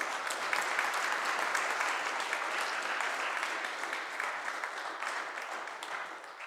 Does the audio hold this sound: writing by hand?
no